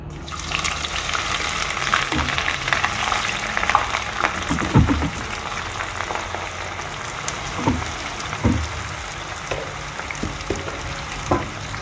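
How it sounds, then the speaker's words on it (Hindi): Chopped onions frying in a pan over a high flame, a continuous close sizzle and crackle with occasional louder spits and stirring clatter, no talking. "फ्लेम इसका मैंने हाई रखा हुआ है, इसे एक दफ़ा मैंने मिक्स किया अच्छी तरह से, और मैंने इसे फ्राई होने के लिए छोड़ दिया है।"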